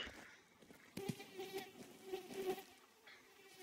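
An insect buzzes in the Bear Simulator video game, a faint, thin drone that comes and goes in short bursts over quiet ambient background.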